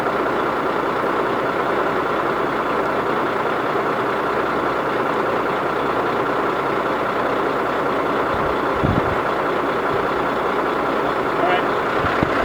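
A boom truck with a knuckle crane idles with its PTO engaged, a steady, loud diesel rumble that drones on without change, with only a couple of brief knocks near the end.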